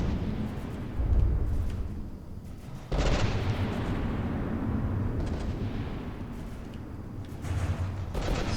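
Heavy cannon fire from APS guns pounds a battleship turret in a big-iron battleship game, a dense rumbling barrage of booms with louder bursts near 1, 3 and 8 seconds.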